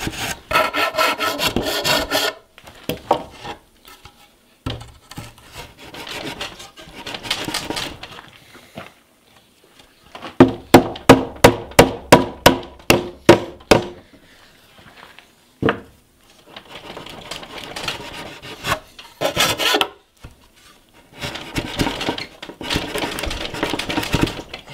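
A file rasps back and forth across a wooden tenon for a scaffold build, with loud rhythmic strokes in several bursts, including a fast run of sharp rasps, close and alone.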